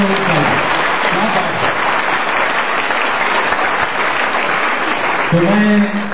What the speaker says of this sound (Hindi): मैं चाहता हूं जोरदार जबरदस्त तालियां उनके सम्मान में